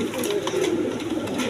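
Pigeons kept for sale coo softly nearby, low throaty calls rising from a flock with faint background clatter.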